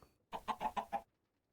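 Minecraft chickens in FTB StoneBlock 4 give five quick, evenly spaced clucks, close and clear, followed by near silence.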